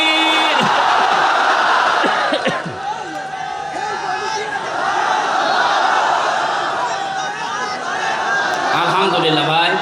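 A large crowd shouts in unison at an outdoor Islamic sermon gathering in Khulna, a loud massed roar of voices that swells and holds across the whole stretch, with scattered whoops and chatter.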